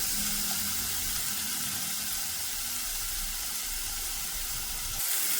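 Prawns sizzling in a pan of tomato masala, a loud, steady, hissing fry that carries on unbroken and close throughout.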